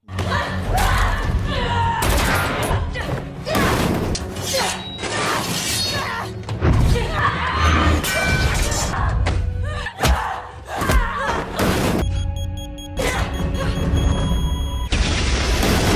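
Fight scene set in a parked airplane cabin: heavy thuds, shattering and crashing impacts come in dense, loud bursts over a booming score, with a sharp smash near the middle and ringing tones toward the end.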